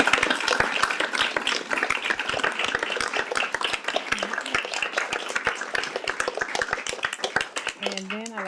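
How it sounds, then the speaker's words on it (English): A lecture-event audience gives a dense round of applause, loud and sustained, with many overlapping hand claps. A voice begins speaking near the end. "Can we give one more round of applause?"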